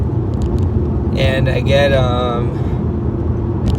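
Inside a moving car, a constant low road and engine rumble runs throughout while a person talks over it in the middle.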